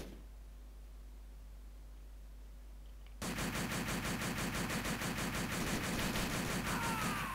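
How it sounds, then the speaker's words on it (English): Dense, rapid gunfire from many players at once in Call of Duty: World at War on the Nintendo DS, a multiplayer team deathmatch. The shooting starts abruptly partway through after a quiet hiss and continues loud and unbroken to the end. "The sound when everyone shoots is fucking terrifying."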